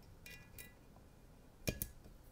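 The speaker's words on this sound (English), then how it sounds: "I was supposed to put the jar ring on here already." A jar ring is fitted onto a glass jar during a seed-planting setup, giving a faint clink early on and then a brief, brighter double clink of metal against glass over quiet room tone.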